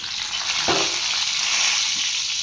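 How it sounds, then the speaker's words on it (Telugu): Garlic cloves frying in hot oil for a bottle gourd rasam, a steady broadband sizzle heard close and alone, with a brief stir or clatter partway through. "ఆయిల్ వేడెక్కిన తర్వాత ముందు వెల్లుల్లిపాయలు వేద్దామండి"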